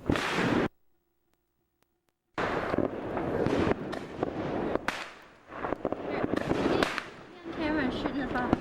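A whole pack of firecrackers set off outdoors, bursting in dense rapid crackling pops that run loud and continuous after a short silence, with voices talking over the barrage.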